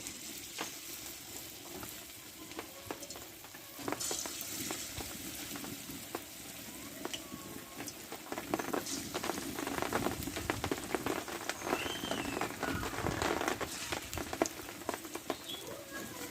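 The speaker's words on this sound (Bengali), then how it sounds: "পেঁয়াজিগুলো এভাবে আমি একটু চ্যাপটা চ্যাপটা করে এবার তেলে ছেড়ে দেবো" Flattened onion fritters (peyaji) slide into hot oil and fry with a steady crackling sizzle, starting softer and growing busier and louder partway through, with scattered pops, close by and with no talk.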